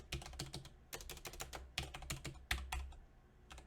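Computer keyboard being typed on in quick clustered bursts of sharp clicks, several keystrokes per group with short pauses between, close and fairly quiet, no talk.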